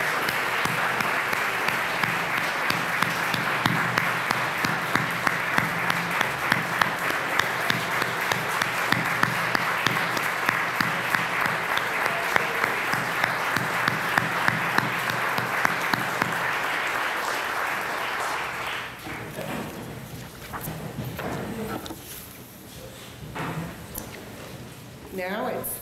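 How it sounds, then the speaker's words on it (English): An audience at a Rotary Club open house for a housing project gives the students a long round of applause, steady dense clapping for about eighteen seconds that then fades into quieter room noise and talk. "I think we need to give them a big round of applause"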